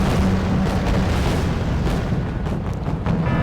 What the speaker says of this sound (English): Wow, look at those missiles.